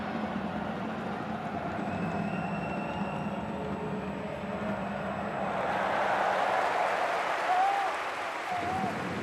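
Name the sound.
stadium crowd chanting a player's name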